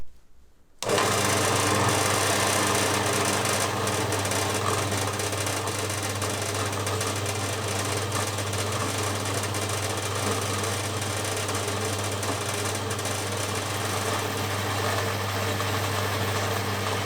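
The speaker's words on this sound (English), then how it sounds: "I'd be pretty much scuppered without that bandsaw" Bandsaw cutting a metal engine part in a home workshop, producing a loud, continuous grinding hum with a steady low drone that starts abruptly and runs unchanged for the rest of the clip, with no talking.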